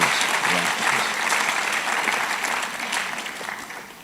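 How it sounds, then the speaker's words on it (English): Applause from an audience at a law week event fills the room: a dense, continuous wash of many hands clapping at moderate loudness, holding steady before easing slightly toward the end. "a round of applause. A round of applause."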